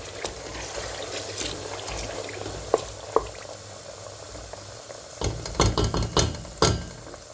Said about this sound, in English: you will stir it for 5 minutes before you will now add the fresh tomato